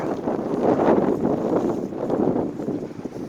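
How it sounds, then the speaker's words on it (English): Strong wind on a blustery day in Amarillo buffets the microphone with a loud, continuous roar that swells and eases in gusts, alone with no voices. "forecast said it's really windy today and tomorrow"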